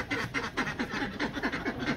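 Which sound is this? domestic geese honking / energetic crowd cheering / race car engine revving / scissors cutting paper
domestic geese honking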